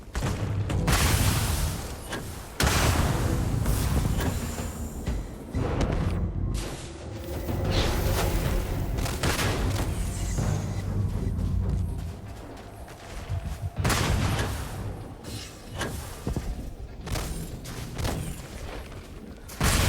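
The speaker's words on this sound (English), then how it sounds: "So many explosions. I think it's from the creatures, actually. The projectiles that they have." Creature projectiles in Starfield set off repeated booming explosions mixed with sharp gunfire bursts and whooshes in a loud, chaotic combat din, with brief dips between volleys.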